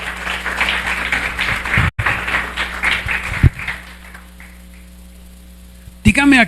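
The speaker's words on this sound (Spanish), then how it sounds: "déle ese aplauso al Señor" A church congregation claps during a Spanish-language sermon, steady applause over a low electrical hum for a few seconds, then dying away to quieter room tone with a voice breaking in at the end.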